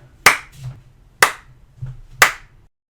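Three sharp, close hand claps land about a second apart, each a crisp crack that dies away quickly, with faint softer hand sounds in between.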